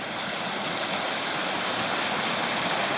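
Clear stream water of Cantrell Creek rushing at a trail crossing, a steady, close, full hiss of flowing water that holds even for the whole stretch with no voices.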